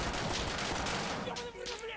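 Bursts of gunfire in an online shooter game, a dense crackle of rapid shots through the whole moment, fairly quiet and low in the mix.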